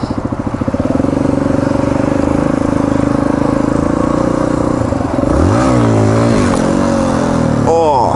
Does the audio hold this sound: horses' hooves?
no